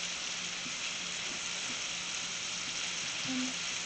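Shrimp fry in a pan, producing a constant close, hissing sizzle with tiny pops and a faint low hum beneath, steady throughout without speech.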